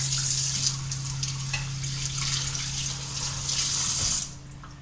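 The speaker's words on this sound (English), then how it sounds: "You just take the ribs out of the bag and give them a quick rinse." Tap water runs steadily into a kitchen sink as raw pork ribs are rinsed under it, a continuous bright splashing that cuts off near the end, leaving a low background hum.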